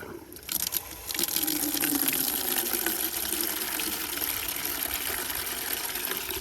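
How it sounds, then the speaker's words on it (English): Water pours steadily into a container in an outdoor garden while potatoes and onions are being planted, a continuous gushing splash that starts abruptly and holds at a fairly loud, even level. "So we'll put our water in here."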